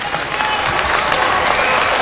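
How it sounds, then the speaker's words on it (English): Sustained, dense audience applause at a global peace conference in London, loud and steady throughout with no talk over it. "Please give big one round of applause."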